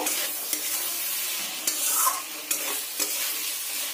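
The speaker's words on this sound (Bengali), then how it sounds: "আলুগুলো মশলার সঙ্গে খুব ভালো করে কষিয়ে নেব।" Fried potatoes are stirred into spice paste in a hot pan, giving a continuous sizzle broken by a few sharp scraping strokes of the spatula, close and steady.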